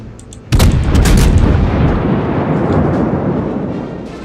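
Heavy naval guns boom from a ship in World of Warships, one loud deep blast that rolls out into a long rumbling decay, alone without speech.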